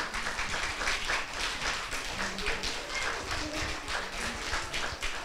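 An audience applauds the young performers of a kindergarten nativity play at a Catholic kindergarten in Tarnobrzeg. The clapping is dense and continuous, with a faint voice underneath.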